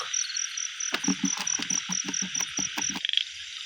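Small baby frog calling at night among insects, a rapid series of short croaks pulsing through a steady high cricket trill, close and moderately loud.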